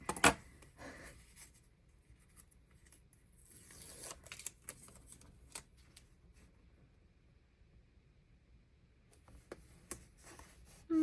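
A pen scratches across paper in a bullet journal, soft and close, with short strokes and pauses between them in a quiet room.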